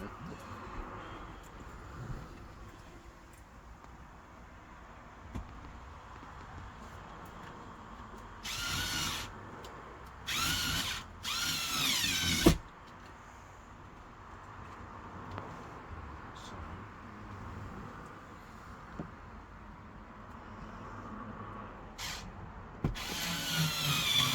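Power drill driving screws into a panel at the back of a fire-damaged motorhome during renovation, several short loud whirring bursts between about 9 and 12 seconds over a quiet room background.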